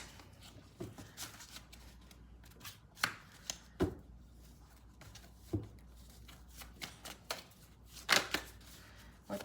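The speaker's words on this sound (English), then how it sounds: "I can shuffle these." Tarot cards shuffled by hand, a run of quiet riffling flicks and soft slaps at an uneven pace, close and low in level with no talking.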